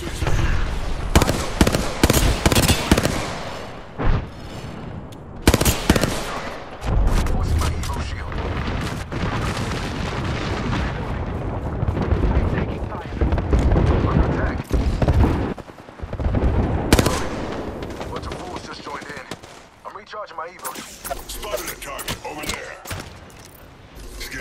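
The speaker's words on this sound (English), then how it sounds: "They're shooting me behind me" Intense gunfire and explosions fill a trios match in the battle royale shooter Apex Legends, with rapid repeated shots, booms and sharp bursts throughout and players talking over the action.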